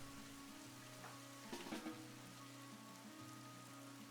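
Rain falls in the RimWorld video game, a soft, continuous patter with a faint steady hum beneath it, quiet throughout and free of speech.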